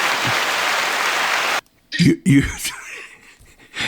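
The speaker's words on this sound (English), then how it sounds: "I'm going to stand up and applaud" Applause at a tribute to a high school varsity boys soccer coach: a burst of clapping lasting about a second and a half that cuts off abruptly, followed by nearby talking.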